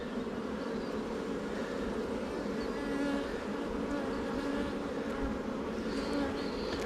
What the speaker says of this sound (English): A few bees doing the waggle dance.